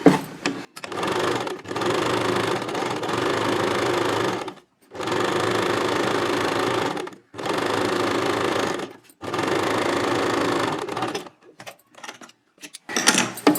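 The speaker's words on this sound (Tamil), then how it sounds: "அப்படியே இந்த ஓரத்துக்கு ஒரு தையல் லேஸில் போட்டுருங்க." Sewing machine stitching lace onto a blouse edge, running in loud, steady whirring bursts of about two seconds each, separated by brief pauses, then a few short stop-start runs at the end.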